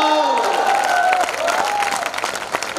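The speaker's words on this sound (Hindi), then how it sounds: "तालियां रोकना, तालियां रोकना, मैं निवेदन कर रहा हूं" A crowd claps steadily at a Hindi poetry recital (kavi sammelan) at the Dussehra fair in Banswara. The dense applause is loud and sustained throughout, with a voice rising over it.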